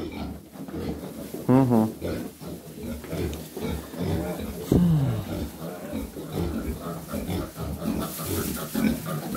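Piglets squeal and grunt close by, with several high squeals early and in the middle over steady low grunting and shuffling, as a person speaks briefly.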